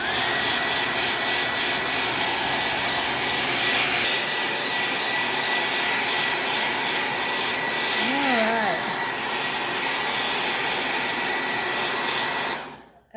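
A hair dryer blowing on an inked decorative towel, a loud, steady close-up roar that holds unbroken for several seconds before cutting off abruptly at the end.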